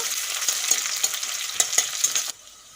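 Chopped onions sizzle steadily in a hot pan for an egg and potato dish, with a dense frying hiss and a few soft stirring clicks before the sound cuts off abruptly near the end.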